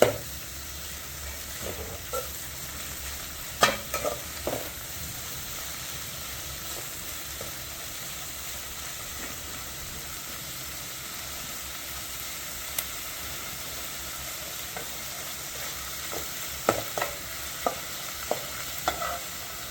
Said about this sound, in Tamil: நல்லா ஃப்ரை ஆகணும்.